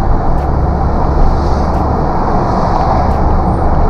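Steady, loud engine and road noise from inside a car with an automatic transmission accelerating to overtake a Mercedes, a dense continuous rumble of tires and motor with no talking.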